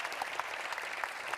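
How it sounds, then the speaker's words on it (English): Audience applauding a Vice President, Sabine Verheyen, at a cinema award event, a steady dense wash of many hands clapping throughout, moderately loud and without pause. "a big round of applause, everyone, for Sabine Verheyen, our Vice President"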